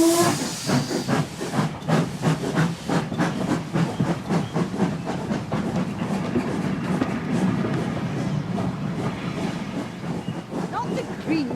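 A steam train hisses loudly and steadily, with rhythmic puffs of steam and a high whistle near the start. Faint voices may sit underneath.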